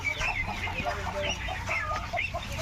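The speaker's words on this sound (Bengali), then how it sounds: "মুরগিগুলো ভয়ে ছোটাছুটি করতেছে" Domestic chickens run about in fear among ducks being caught for vaccination, giving frequent agitated clucks and squawks at moderate distance over a low background hum.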